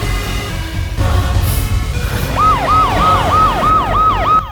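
An ambulance siren wails in a dramatic scene, its rising and falling tone repeating rapidly over a rumbling background of traffic and commotion, loud and close, with no speech.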